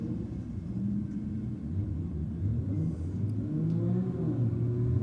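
Datsun drag car engine at Sydney Dragway, heard as a steady low rumbling drone as the car rolls along the return road, continuous and moderately loud without sharp revs.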